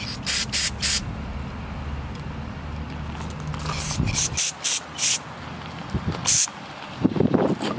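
Carburetor cleaner sprays in short, sharp hissing bursts through the metering block passages of a Holley 4160 marine carburetor, several quick blasts in the second half of the clip following a steadier background hiss.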